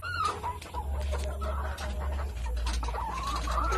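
Hens cluck and chatter inside an egg-laying hen house, several birds calling close by in overlapping bursts over a steady low hum.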